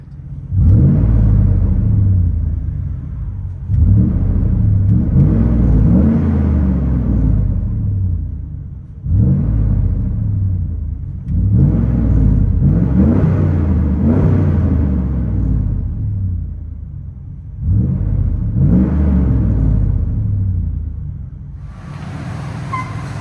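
Inside the cab of a 2005 Dodge Ram single cab with a 5.7L HEMI V8 and Flowmaster Flow FX exhaust, a muffled, steady engine drone swells through five long revs and eases off between them, with no talking.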